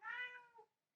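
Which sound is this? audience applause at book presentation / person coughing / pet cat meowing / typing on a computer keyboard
pet cat meowing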